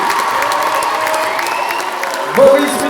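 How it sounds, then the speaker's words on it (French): Audience applause and cheering for a singer at a French concert, a steady wash of clapping with crowd noise that swells briefly near the end. "on peut l'applaudir s'il vous plaît"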